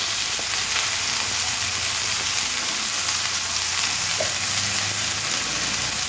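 Ginger paste and a little turmeric powder fry in hot oil for a spinach and prawn curry, a steady close sizzle running without a break and with no talking.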